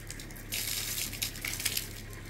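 Water pours from a bucket into one side of a basin, a steady rushing splash close by with irregular bursts, heard alone without voices.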